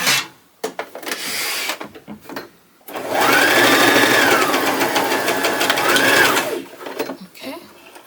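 A sewing machine runs in one continuous burst lasting a few seconds as it stitches the ends of a simple fabric top together. Short handling noises come before and after it.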